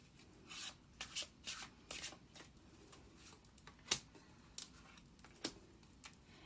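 Tarot cards are shuffled quietly at close range in a series of soft riffling and rubbing bursts with small taps between them.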